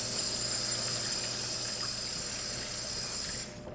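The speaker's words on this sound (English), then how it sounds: "always, always wash your hands afterwards" A kitchen tap runs steadily as hands are washed after handling raw meat and raw eggs. The close, constant rush of water holds for several seconds and then cuts off near the end, with no talk over it.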